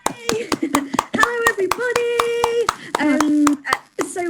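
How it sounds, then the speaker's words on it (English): Scattered, sharp hand claps from a small group ring out in quick irregular bursts, mixed with voices speaking over them. "everybody start a round of applause"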